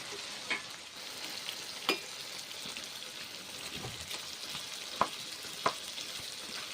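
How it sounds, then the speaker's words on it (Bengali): Ridge gourd stir-fried with spices gives a soft, steady sizzle in a pan, broken by a few sharp taps of a spatula against the metal; no voices. "মশলা ঝিঙে একসঙ্গে কষে নিচ্ছি।"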